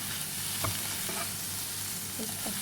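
Egg with chopped coriander stirred in a hot pan, a steady frying sizzle with a few soft spatula scrapes spread across the short stretch, close and fairly quiet, no talking.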